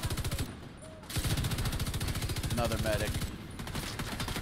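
Rapid automatic gunfire in The Division 2 rattles in fast bursts up close, breaking briefly before resuming, with a voice speaking over the shooting.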